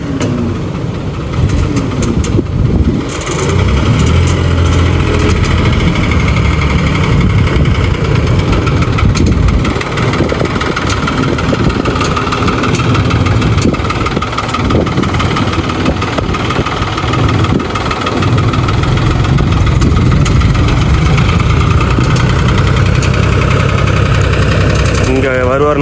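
A tractor engine idles steadily for the whole stretch, a loud, continuous low rumble with rattling knocks and occasional shifts in tone.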